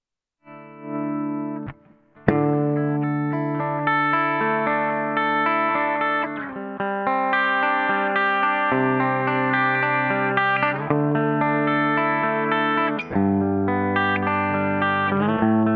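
A PRS SE Custom 24 electric guitar plays a clean tone. A short opening note gives way to ringing, sustained chords strummed in a slow, steady sequence, close and alone.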